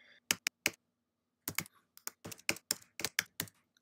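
Bursts of computer keyboard keystrokes as a password is typed, a quick cluster of clicks, a pause, then a steady run of close, crisp taps with no voices.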